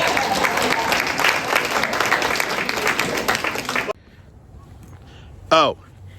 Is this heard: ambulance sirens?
no